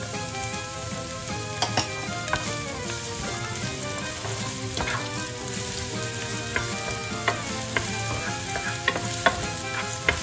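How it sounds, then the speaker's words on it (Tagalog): Chopped onions drop into a pan of browning anchovies for ginataang dilis, giving a continuous dense sizzle with scattered crackles and light scraping as they are stirred. "Lagay na natin ang sibuyas natin"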